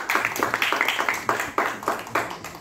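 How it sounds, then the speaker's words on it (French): An audience at a theatre foundation event in Morocco applauds, a run of distinct, fairly close handclaps in an irregular rhythm over a few seconds. "Je vous demande d'applaudir"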